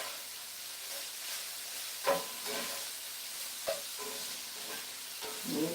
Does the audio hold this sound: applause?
no